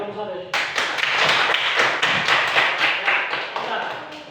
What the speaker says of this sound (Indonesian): Kita beri aplaus untuk mereka.